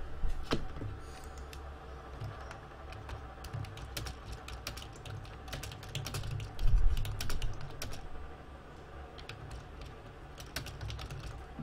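Rapid typing on a computer keyboard during a live stream, close clicky keystrokes in uneven bursts with short pauses and a louder cluster midway, no speech.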